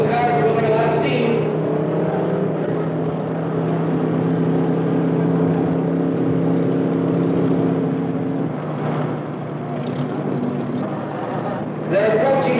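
Two vintage hot rods, one a Ford Thunderbird, race side by side at speed, their engines droning steadily and loudly throughout, with a brief surge near the end.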